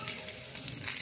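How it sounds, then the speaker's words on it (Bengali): Curry leaves fry in hot oil, giving a short, faint, steady sizzle with light crackle throughout. "এখন আমি কারি পাতাগুলো ভেজে নেব।"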